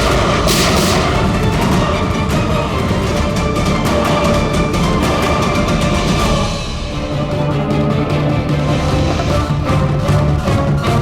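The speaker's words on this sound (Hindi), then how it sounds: "मुझे कवर करो और फायरिंग करते रहना" Dense, rapid gunfire crackles loud and close through a shootout, bursts of shots stacking over a heavy low rumble with no pause, then a lower steady hum creeps in under the continuing shots.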